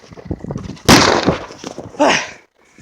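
A Dragon Boom firecracker goes off outdoors with a sharp, very loud bang, followed by a second crackling burst a moment later, then quiet.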